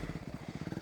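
Motorbike engine throttled gently through deep slush, a low, steady chugging pulse with a rhythmic beat running through the whole short stretch, close and fairly loud.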